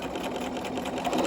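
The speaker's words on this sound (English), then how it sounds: "I'm going to sew that." A sewing machine stitches a rolled hem in a steady, close, continuous mechanical whir of rapid stitching that lasts just over a second.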